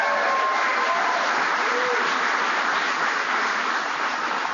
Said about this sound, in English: Give him another round of applause, would you please?